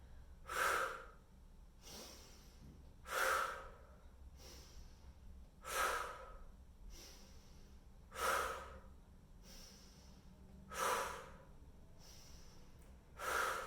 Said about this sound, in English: So I'm going to go exhale, inhale, exhale, inhale.